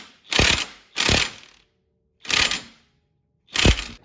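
A torque wrench tightens a clutch bolt on a 2019 Polaris RZR XP 1000, giving four loud, close ratcheting bursts separated by short pauses.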